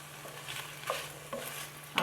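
Chicken fillet and vegetables fry in a pan with a steady sizzle, broken by a few scraping stirs of a utensil against the pan, close and fairly quiet, with no voices.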